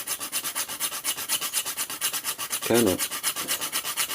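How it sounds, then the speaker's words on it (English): Steady rhythmic rasping of a hand file on a wooden rifle stock, stroke after stroke, with a brief spoken question partway through. "I know file strokes should be like this"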